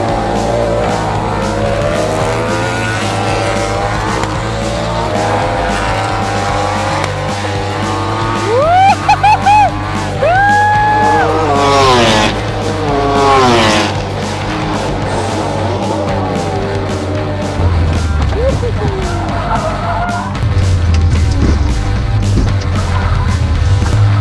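Ducati racing motorcycles whine and rev past during a track day, rising and falling in pitch as bikes pass, with a constant loud mechanical drone throughout.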